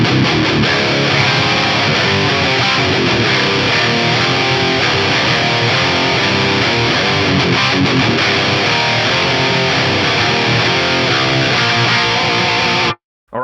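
Electric guitar played through an Axe-Fx III JP2C amp model set for a creamy lead, sustained distorted notes and phrases running continuously and loud before cutting off abruptly near the end.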